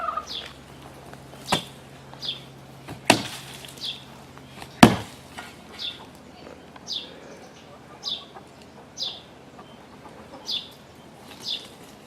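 A shovel blade chops into a watermelon set out for backyard chickens, several sharp thuds spaced a second or so apart, with faint chirps and clucks from the birds in between.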